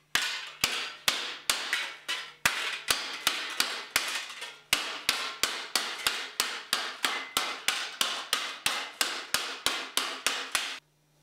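Rapid, sharp metallic hammer blows strike sheet metal held on a post dolly to smooth tuck-shrunk wrinkles. Roughly thirty crisp strikes land in a steady rhythm, close and loud, broken by one brief pause and no talking.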